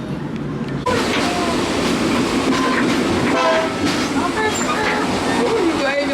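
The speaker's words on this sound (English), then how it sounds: "the train so it can start going back the other way" Passenger train running on rails during a ride, a steady loud rumble with clattering wheels and squealing metal, up close, with people talking underneath.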